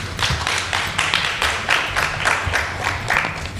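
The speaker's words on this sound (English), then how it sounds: "Another loud round of applause," An audience at a panel event claps in a sustained round of applause, steady rhythmic hand claps swelling in waves and filling the room without any talk.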